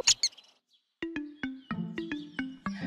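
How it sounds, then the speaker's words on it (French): A cartoon owl calling in a children's show, a run of short, clipped, bird-like hoots repeated in a quick uneven rhythm after a pair of brighter chirps, close and clear with no speech. "le hibou."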